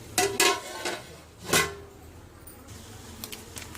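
A metal plate set over a cooking pot of mutton biryani, a few sharp clinks and clatters close by, two quick ones followed by another a second later, then quiet kitchen background.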